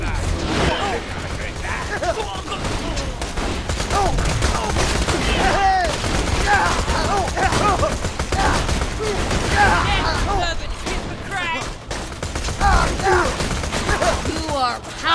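Gunfire in the video game Borderlands 2 crackles in dense, rapid bursts through a hectic firefight, with shouted voices and other game sounds layered over it for the whole stretch.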